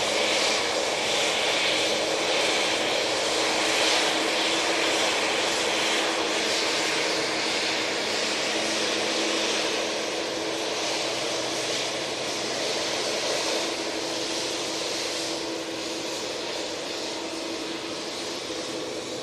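A TUI jet departs Manchester Airport for Palma de Mallorca, its engines a broad, continuous roar that stays loud and steady, then eases slightly toward the end.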